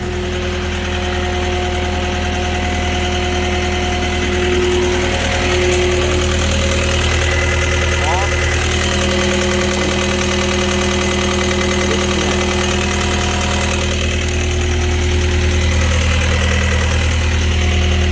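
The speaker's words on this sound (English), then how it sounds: "many of you will still hear my skid steer run in the background" A skid steer's diesel engine idles steadily and loudly for the whole stretch, a constant droning rumble with a slight knock and no voices over it.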